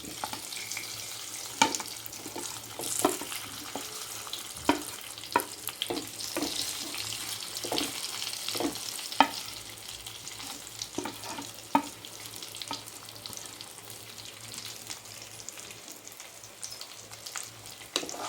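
Stuffed bitter gourds frying in a tempering with curry leaves and coriander, a steady close sizzle with scattered pops and stirring clicks throughout, no talk.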